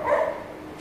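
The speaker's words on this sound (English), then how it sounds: "Some of our famous stray dogs there giving us trouble." Stray dogs bark once in a short, muffled burst somewhere at a distance outdoors during a late-night livestream, then fade into quiet background noise.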